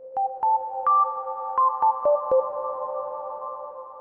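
Plucked Native Instruments Massive synth notes with full reverb ring out one after another, each leaving a long, swelling reverb tail that blends into a lingering wash.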